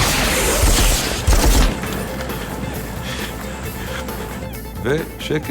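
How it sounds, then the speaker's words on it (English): Heavy weapons and RPG fire in a hostage-rescue assault at an airport, a dense loud barrage of booming blasts and rapid shots with deep impacts early on, then continued rattling gunfire further off. "Our men shoot with heavy weapons, RPGs"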